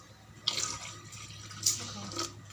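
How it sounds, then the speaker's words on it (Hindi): About half a glass of water is poured into milk and rice flour for Hyderabadi kheer, giving two short, soft splashing bursts over a quiet kitchen background. "इसमें तकरीबन हम हाफ गिलास पानी डालेंगे।"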